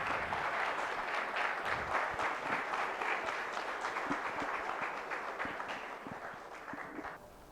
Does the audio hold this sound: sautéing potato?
no